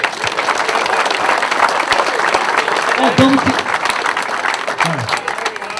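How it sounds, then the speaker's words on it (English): A crowd at a presentation on a football locker room transformation project applauds the group who did the work, a loud, continuous burst of clapping with a few voices calling out underneath. "So a round of applause for those guys."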